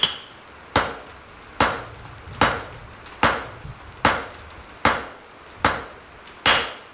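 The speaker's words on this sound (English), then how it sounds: "Oh, hit the anvil." At a forge, a hammer strikes an anvil in sharp, evenly spaced blows, about nine ringing hits in quick rhythm, close and loud with no talk.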